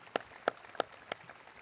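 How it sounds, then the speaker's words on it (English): At a fall mid-year university commencement honoring graduating students, a few faint, evenly spaced claps ring out one by one, four sharp hits with short pauses between. "Round of applause for our students."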